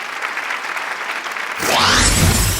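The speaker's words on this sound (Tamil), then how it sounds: "நம்மளுடைய எவர் கிரீன் ஸ்டாருக்கு ஒரு பலத்த பலத்த பலத்த கரகோஷம் கொடுக்கலாம்னு நினைக்கிறேன்" A dense burst of audience applause at the Vikatan Television Awards 2023 fills the first half, then a loud, swelling music sting with rising sweeps takes over and dominates the rest.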